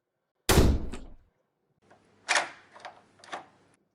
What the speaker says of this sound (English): That was the sound of slamming shut the door